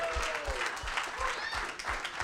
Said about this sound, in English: how about a big round of applause tonight for Romeo Doubs for hanging out with us